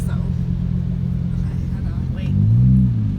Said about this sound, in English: Give it gas.